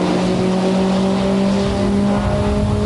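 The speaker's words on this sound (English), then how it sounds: "This is Rob Judge, otherwise known as Judgy, out there in his vehicle that also double duties as a hill climb and sprint vehicle." A Volkswagen hill climb and sprint car powered by a Type 4 engine runs steadily and loudly nearby, its engine holding a sustained droning tone with a slight rise in pitch, no voices over it.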